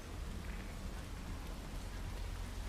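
Steady rain pours in the Hitman 3 video game, a dense continuous hiss of drops on surfaces with a low rumbling undertone, even and unbroken throughout.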